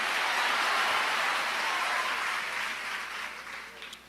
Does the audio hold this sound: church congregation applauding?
yes